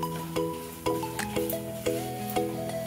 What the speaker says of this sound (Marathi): हे मी चांगलं परतून घेते आता।